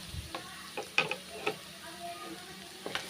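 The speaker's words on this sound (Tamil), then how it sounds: "அப்படியே எண்ணெயிலே நல்லா வதங்கட்டும்" Potato and carrot poriyal sautés in oil with a quiet, low sizzle, punctuated by a few soft stirring scrapes and taps spaced irregularly, close by and without speech.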